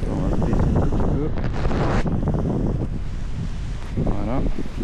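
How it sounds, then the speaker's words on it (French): Loud, continuous wind buffeting a microphone during an outdoor litter cleanup, rumbling low and steady throughout, with brief bursts of voices mixed underneath. "Il y a un peu de vent, les amis."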